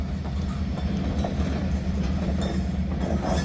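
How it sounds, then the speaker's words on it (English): A southbound train hauled by vintage locomotives rolls past near Channing, a steady, loud rumble of railcars with faint clickety-clack from the wheels and no talking. "Our train is heading south after a long day in Channing."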